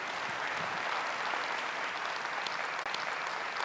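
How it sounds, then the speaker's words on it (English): Conference audience at a school district superintendent's staff day applauding themselves, a continuous even wash of clapping from a large room, steady and fairly distant throughout. "Give yourselves a round of applause."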